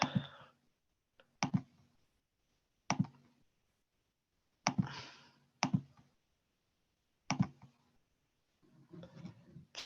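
Calculator keys pressed in short bursts, with several clicky taps in clusters separated by quiet gaps.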